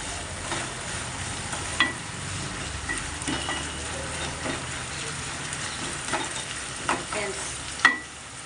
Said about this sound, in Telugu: బాగా వేగుతుంది రొయ్య.